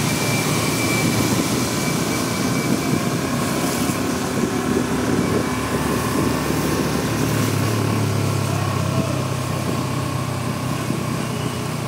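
A vehicle engine runs steadily during a driving lesson, a continuous low hum and drone that holds at an even level throughout, with no voices over it.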